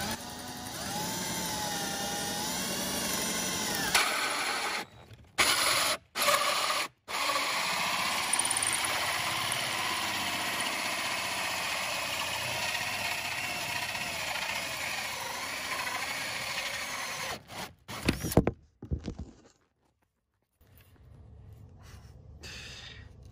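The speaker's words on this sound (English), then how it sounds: "you want a 3-inch hole saw to cut a 3-inch diameter hole" A 2.5-inch hole saw on a power drill cuts through a sheet of plywood, making a long, loud, steady grinding whine that pauses briefly a few times before it stops and the room goes quiet.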